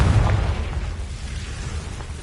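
Confringo spell explosion in a Harry Potter video game, a short booming blast with a sharp burst at the start that settles into a rumbling, decaying tail.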